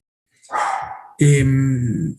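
A pet dog barks indoors at home, two loud, close barks in quick succession with a brief pause between them, no talking alongside.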